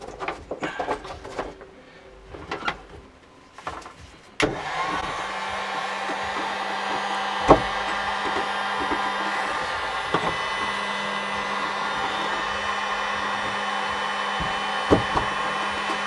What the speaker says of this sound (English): I'm just going to start out with the heat gun on the lowest setting.